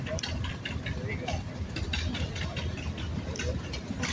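An old Case steam engine at a steam engine show runs a sawmill, giving a steady low mechanical rumble with regular ticking beats, heard under nearby voices.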